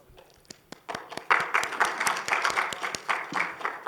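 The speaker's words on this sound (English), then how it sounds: "Let us all welcome him to the stage with a huge round of applause." A crowd claps steadily, starting with a few scattered claps that swell into continuous applause heard from a moderate distance.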